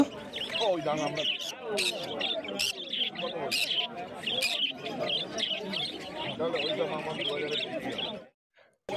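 Pineapple conures at a crowded bird market, a dense mix of chirps and tweets under near-constant talk, with high calls standing out throughout.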